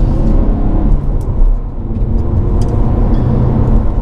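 A Peugeot 308 GTi on a winding road, its engine giving a steady close rumble and whir with a slight rise in revs, with no one talking over it.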